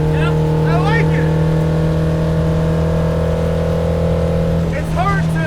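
A 1978 Fiat Abarth 131 Group 4 rally car cruises on a Florida highway, its engine humming steady and close from inside, with a person speaking briefly at the start and end.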